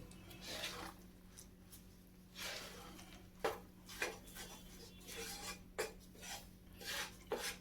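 A spoon scrapes and drags through a thick ground sesame and jaggery mixture in a pan over low heat, producing faint, repeated rasping strokes in an irregular rhythm.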